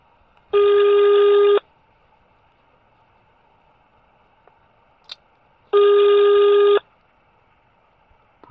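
Two evenly spaced ringback tones on an outgoing phone call, each about a second long with quiet gaps between them, come through clearly with only faint clicks and no talking.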